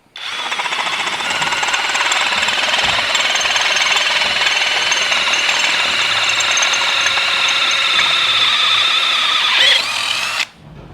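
A power drill bores holes through the steel firewall of a Toyota Tacoma. It whines loudly and steadily for about ten seconds with no one talking, then cuts off abruptly near the end.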